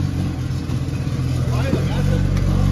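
A freshly repaired turbocharged Volvo B20 engine idles nearby with a steady low rumble and slight uneven pulsing, a voice faintly present under the engine noise.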